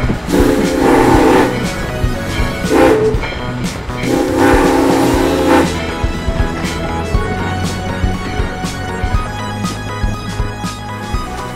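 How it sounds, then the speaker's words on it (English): Steam train in Chehalis, Washington, sounding loud, long whistle blasts in three bursts over a rumbling engine, then the steady chug and clank of the locomotive continuing alone. "This is a steam train."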